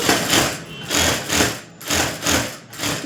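A sewing machine stitches a blouse back neck with canvas lining in steady, rapid whirring bursts that rise and fall across several short runs, close and fairly loud.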